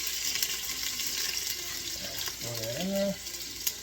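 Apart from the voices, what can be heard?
vegetables sizzling in hot oil in soup pot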